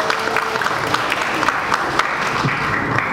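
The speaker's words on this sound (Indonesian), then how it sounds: "Tepuk tangan untuk Pak Pendeta Muriwale." Debate audience applauding a pastor as his speaking time ends, a steady, fairly loud round of crowd clapping that continues evenly throughout.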